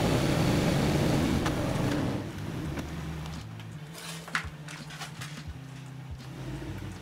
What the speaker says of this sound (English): you should keep the truck running so the power steering is active